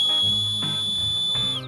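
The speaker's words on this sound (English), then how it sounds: "A built-in whistle." A small whistle built into a backpack's sternum strap, blown in one sustained shrill piercing tone that is loud and close and then cuts off, with no talking.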